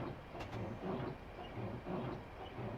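Train rolling on rails in a train simulator game on the London–Faversham high speed line approaching Gillingham, a steady low rumble with soft periodic swells and faint clicks, heard alone without talk.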